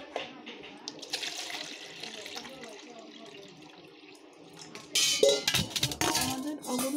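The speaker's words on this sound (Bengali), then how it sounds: "অগুরু এর মধ্যে আমরা জল নিয়ে নেব।" Water poured into a bowl holding agarwood: a faint, steady trickle at first, then louder splashing and clinking against the bowl toward the end.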